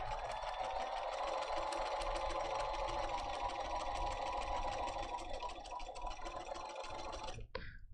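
A sewing machine stitches veins onto fabric for a quilting project, running steadily and fairly loud for several seconds before stopping abruptly near the end.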